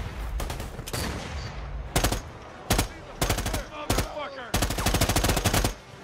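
Rapid automatic gunfire bursts in the video game Predator: Hunting Grounds, several separate volleys with short gaps, the later ones longer and more sustained, loud and close.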